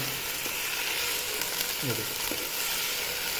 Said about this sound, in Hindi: कुछ देर हम इसमें ऐसे ही फ्राई करेंगे, मज़ीद 3-4 मिनट तक हमने इसको अदरक और लहसुन के पेस्ट में फ्राई कर लेना।